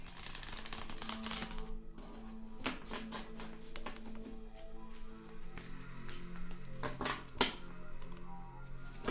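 A tarot deck being shuffled by hand, heard as quiet, irregular clicks, taps and soft card slaps in close, continuous succession.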